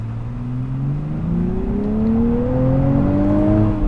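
A 2023 Nissan Z engine revs steadily higher while drifting, its pitch climbing in smooth harmonic sweeps over roughly four seconds, loud and close with a faint whir underneath.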